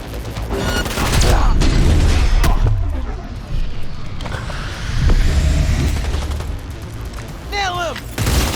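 Gunfire in Cyberpunk 2077 during a tunnel approach to a warehouse area, loud bursts of shots and booming impacts filling the clip over a heavy low rumble, with game voices and sound effects mixed in.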